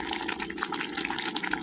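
Mustard oil poured into a pan, a steady close liquid trickle and gurgle running through the short moment with no talk.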